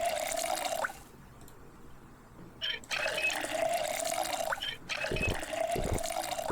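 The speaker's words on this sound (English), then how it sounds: "The water's still running here." Water runs from a tap into containers in Project Zomboid, a steady close hiss that stops briefly twice and then resumes.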